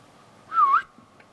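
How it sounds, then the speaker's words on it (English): A person whistles at a deer outdoors, a single short rising-and-falling whistle, moderately loud and close, in an otherwise quiet setting with no talking. "What if I whistle?"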